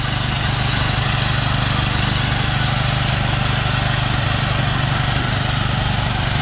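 A tractor-driven mower cutting a fallow field gives a loud, steady engine drone with a rhythmic low throb, unbroken throughout and with no voices.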